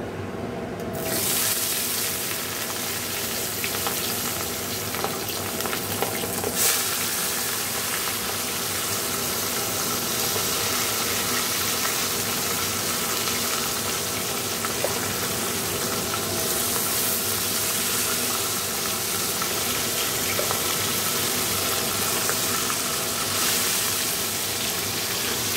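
Fish frying in hot oil in a home kitchen, a steady loud hiss and sizzle running throughout with occasional crackles and spits, no talking.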